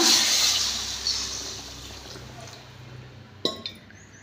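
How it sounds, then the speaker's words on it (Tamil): Water is poured into bitter gourd and cowpea curry gravy in a pan, a soft hissing splash at first that fades, followed by a sharp clink of a utensil against the vessel. "இப்போ வந்து தண்ணி ஊற்றிக்கலாம்ப்பா"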